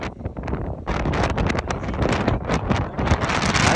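Strong wind gusting outdoors across open ground in the afternoon, a loud continuous roar and buffeting against the microphone that builds and stays heavy throughout, with no voices.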